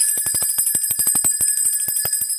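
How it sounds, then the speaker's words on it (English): A bright metallic bell rings in quick repeated strikes, its clear high tones sustaining and ringing out continuously, close and loud with no voices. "Let's get our spiritual bell here."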